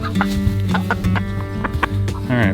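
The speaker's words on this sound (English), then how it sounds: "our one-eyed crossbeak chicken" A one-eyed crossbeak hen clucking near the microphone on a farm, a quick run of short, choppy clucks with a brief rising squawk at the end.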